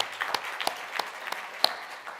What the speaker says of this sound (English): Please give all of them a huge round of applause once again.